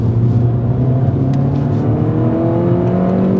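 A turbocharged Mini Cooper JCW GP2 drives along a cold, damp B-road, its engine giving a steady, loud droning hum with slight rising tones, heard alone with no voices.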